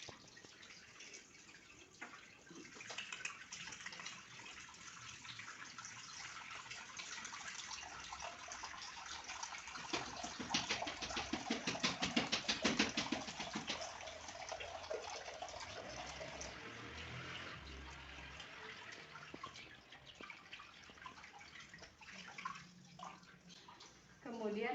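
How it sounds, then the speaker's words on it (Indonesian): Hands washed under running tap water, a steady close splashing stream that swells in the middle and gets quieter toward the end, with no one talking. "cuci tangan kembali."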